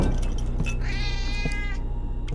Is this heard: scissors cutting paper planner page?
no